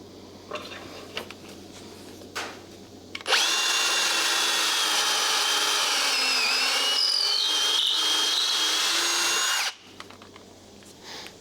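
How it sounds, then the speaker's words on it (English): A power drill bores a pocket hole into wood for a plywood and 2x4 workbench, a loud steady whine running about six seconds after a few faint knocks, then stopping abruptly. "So let's go ahead and drill a hole."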